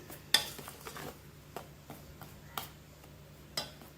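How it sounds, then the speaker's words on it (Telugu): A spoon stirring a mango pickle mixture made with moong dal flour in a bowl, giving sparse clinks and scraping taps at an irregular pace, close and fairly quiet. "ఇలా మొత్తం వీటన్నిటిని కలిపేసుకోవాలి బాగా మిక్స్ చేయాలి"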